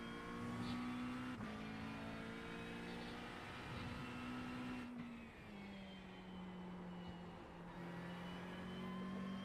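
A race car engine in Gran Turismo Sport drones and revs continuously, its pitch rising and dropping through gear changes and a lift-off, heard close and loud from the cockpit, with no talk.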